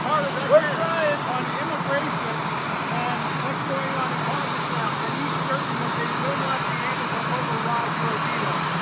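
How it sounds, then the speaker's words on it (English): A steady, droning helicopter rotor-engine roar fills the background throughout, with people talking over it. "You're competing with a helicopter, John."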